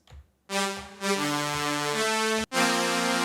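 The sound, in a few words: super saw synth preset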